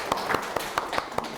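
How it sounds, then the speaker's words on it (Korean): A small audience at a Korean book concert claps for a welcoming speaker: sparse, distinct handclaps spaced irregularly, fairly close and not very loud, with no talking over them. "박수 한번 부탁드릴게요."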